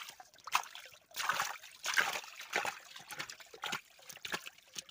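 A forest spring trickles and dribbles quietly in close, uneven bursts of running water, with no voices over it.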